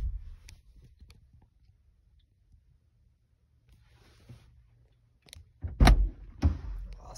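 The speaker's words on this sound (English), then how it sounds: "so I'm going to close your door." An Infiniti car door swings shut with a solid thunk near the end, preceded by quiet shuffling and faint handling noises in an otherwise still setting.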